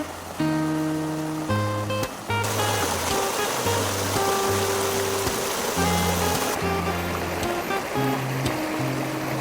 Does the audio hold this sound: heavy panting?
no